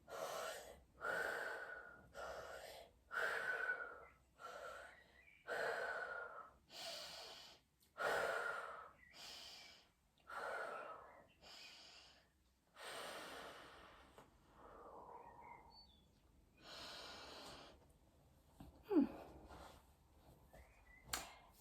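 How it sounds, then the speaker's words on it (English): Deep, slow breaths during fascial stretching exercises, about a dozen audible inhales and exhales in a steady rhythm, close and fairly loud, then trailing off into fainter, uneven breathing. "Start breathing."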